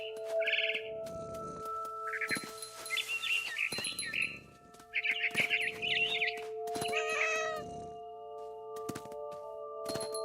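Electronic-sounding cat meows and yowls from the video game What Remains of Edith Finch come in short bursts over a steady background tone, with bird-like chirps mixed in and brief pauses between calls.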